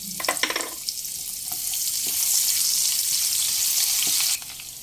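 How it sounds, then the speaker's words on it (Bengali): Half a chopped onion drops into hot spiced oil for a white egg korma, a few clattering knocks giving way to a loud, steady sizzle that swells and holds, then cuts off abruptly near the end. "এখানে আমি অর্ধেকটা পেঁয়াজ কুচিয়ে রেখেছিলাম সেটা দিয়ে দিলাম"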